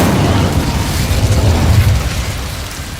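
Casting Incendio in Hogwarts Legacy gives a dense, roaring whoosh of fire with a low rumbling body, holding steady before thinning slightly near the end.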